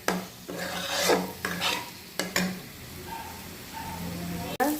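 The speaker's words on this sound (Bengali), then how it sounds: "আর এখানে আমি ফোড়ন দিয়ে মশলা টশলা দিয়ে আমি কষাচ্ছি" Prawns stir-fried with tempered spices in a pan: repeated scraping strokes of a spatula with a soft sizzle beneath, several sharp scrapes spaced unevenly, close and fairly loud.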